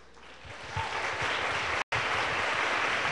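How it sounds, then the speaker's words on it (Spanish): A church congregation claps louder in praise of the Lord Jesus, dense applause swelling after a moment and holding steady, with one brief dropout. "¿Puede dar un aplauso al Señor Jesús en esta tarde?"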